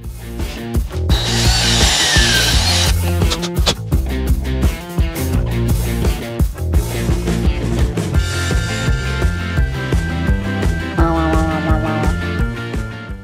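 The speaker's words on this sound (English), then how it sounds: "I'll quickly drill another 8mm hole there" Power drill boring an 8mm hole into wood, a loud continuous grinding whine with shifting pitch as the bit bites, steady for the whole stretch.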